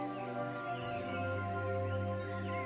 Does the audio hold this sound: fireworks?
no